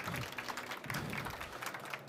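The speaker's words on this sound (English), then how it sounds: "So you guys gonna give this guy a round of applause?" Audience clapping at the NAB 2012 fxguidetv live show, a faint, distant scatter of hands heard across a noisy trade-show floor, thin and uneven throughout.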